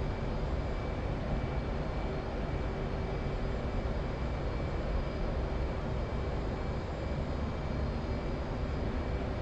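A plane's engine drones in a flight simulator game as it flies on autopilot, a steady, even roar that runs unbroken throughout with no talk over it.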